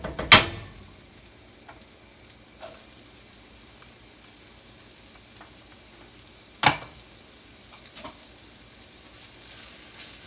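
Onions and a generous amount of garlic fry in a pan with a soft, steady sizzle, broken by two sharp stirring clatters, one at the start and another midway, and a few faint taps.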